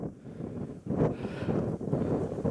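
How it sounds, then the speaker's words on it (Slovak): Wind gusting across a wintry Tatras mountain summit, Gerlachovský štít at 2655 m, a steady broadband roar buffeting the microphone, dipping briefly and then rising louder in rough gusts, with no voices. "Je tu príjemne, trošku fúka vietor."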